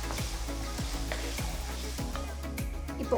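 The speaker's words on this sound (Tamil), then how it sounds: "தக்காளி நல்லா சாஃப்ட் ஆகிற வரைக்கும் வதக்குங்க." Chopped tomatoes sautéing in oil in a pan for prawn curry, a steady close sizzle with regular scraping stirs of a spoon roughly every half second.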